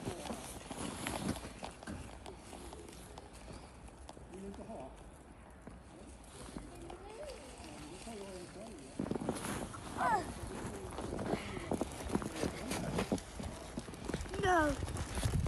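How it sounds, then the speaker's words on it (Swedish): A horse's hooves clip-clop steadily through snow on a winter day in Stockholm, with a few whinnies and people talking nearby throughout. "Jag tycker det är en häst"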